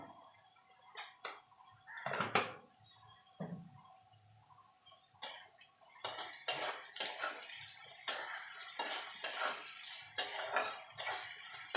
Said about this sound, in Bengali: গাজর বিনসটা ভেজে নেব।